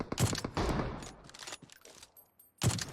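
Sniper rifle shots in a PUBG-style battle royale game: a loud crack with a rolling echo, a quieter stretch of scattered clicks and movement, then a second sharp report near the end.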